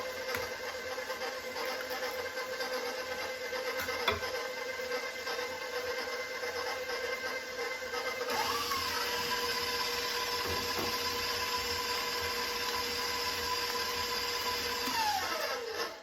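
Eggs being mixed in a bowl for chocolate zucchini cake, heard as a steady whirring mechanical drone that runs unbroken throughout, close and moderately loud, with a brief pitch sweep near the end.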